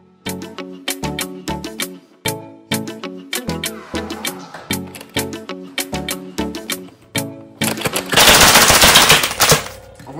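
A Nerf cylinder blaster fires in a rapid series of sharp, close plastic clacks and snaps, followed by a burst of louder, broadband noise near the end.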